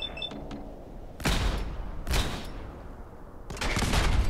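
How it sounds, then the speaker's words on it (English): Several rifle shots from a ghost rifle in Fallout 4, loud sharp cracks spaced about a second apart with echoing tails, heard alone without talk. "Ghost rifle, VAT, headshot, a couple of shots should do her in."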